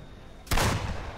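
A single sharp gunshot in a video game cracks out loud and close, followed by a brief ringing tail.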